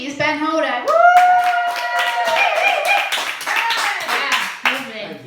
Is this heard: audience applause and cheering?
yes